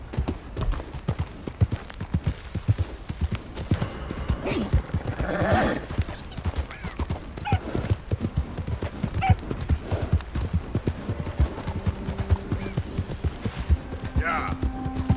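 A horse gallops in Red Dead Redemption 2, with steady, rhythmic hoofbeats clopping throughout and an occasional snort or whinny over the running.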